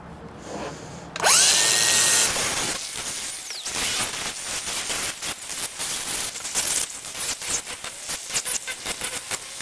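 Power sanding wheel grinding a small homemade sheet-metal fuel pump block-off plate held in pliers, a loud sustained whir that spins up and then breaks into rapid rough scraping bursts as the metal is pressed against it, with no talk.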